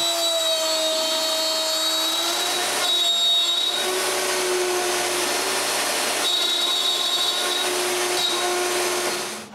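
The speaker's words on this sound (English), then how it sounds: "I use a rail to guide the router when I cut the grooves" A router guided along a rail cuts grooves with a loud, continuous high-pitched whine and roar, close and steady, dipping briefly in pitch twice as the bit loads up in the wood.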